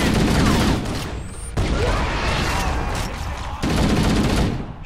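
A grenade explodes during Halo gameplay, a loud burst of booming blasts and gunfire in quick succession, with sharp cuts between bursts and brief breaks in the din.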